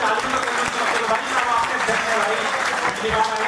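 A crowd claps loudly and steadily at a DJ sound association meeting in Meerut, with voices mixed in under the dense applause.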